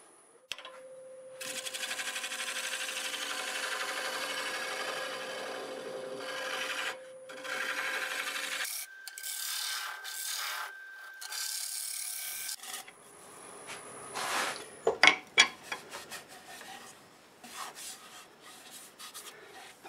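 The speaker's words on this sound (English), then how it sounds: "Use my negative scraper to finish that bottom out." A negative scraper shears across the bottom of a flame maple burl bowl spinning on a wood lathe, giving steady raspy scraping in long passes with brief pauses, close and fairly loud, followed by a few sharp knocks near the end.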